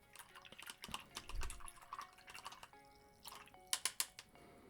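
Water drips and small splashes of brush water while painting in a mixed media sketchbook, a scatter of soft wet taps building to a few sharper, louder drips near the end, with no talking.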